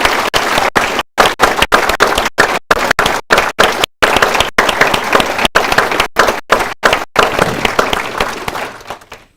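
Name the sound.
applause for awardees at ceremony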